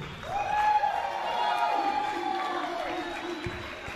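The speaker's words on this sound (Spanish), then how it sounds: "Yo solo quiero que le demos un fuerte aplauso a su nuevo y flamante campeón mundial" Crowd at a wrestling show cheering and applauding a newly crowned world champion, with a sustained roar of voices and clapping throughout, a shrill voice rising above the din early on.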